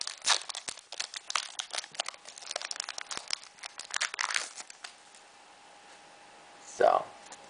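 Crinkling and tearing of a Pokémon EX Dragon card blister pack being opened, close and fairly quiet, with irregular plastic crackles over a faint hum, then a lull and one short louder rustle.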